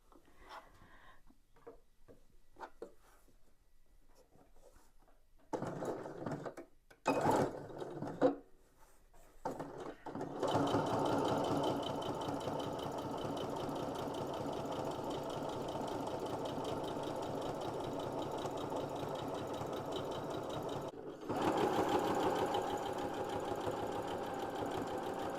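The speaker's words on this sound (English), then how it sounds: "I'm going to sew here. I'm going to go all the way around in a circle." Domestic sewing machine runs steadily, stitching in a circle around the edge of a fabric drink cover for a mesh glass cover, with a continuous whirring hum for about fifteen seconds after some short starts and handling noises.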